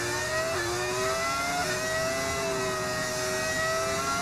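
An F1 car's engine screams in the F1 25 racing game, a loud, sustained, high-revving whine with steady harmonics that dips briefly and climbs again.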